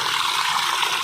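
Steady rush of water pouring from a garden tap into a liquid-fertilizer holding tank for a venturi injector, a continuous close hiss with no pauses.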